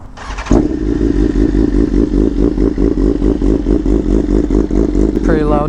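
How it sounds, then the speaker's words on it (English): A loud BMW M1000RR sport motorcycle idles and revs up close after a sharp start, its engine pulsing steadily and dense throughout, with a brief voice near the end. "Pretty loud bike."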